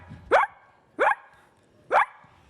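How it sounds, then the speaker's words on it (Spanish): A dog barks three times at an even pace, each bark loud and sharp with quiet gaps between, played as an animal sound effect from a sound door on a TV show. "El ladrido, por ejemplo, sería el..."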